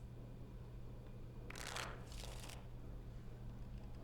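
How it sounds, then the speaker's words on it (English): Cards shuffled in the video game Dragon Age Origins, two short crisp riffling bursts in close succession over a steady low background hum. "I will shuffle the cards."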